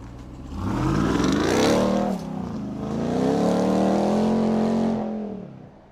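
A supercharged V8 engine in a 2020 RAM 1500 TRX pickup truck roars as it accelerates, rising in pitch, easing off briefly, then building again in a loud, close drone.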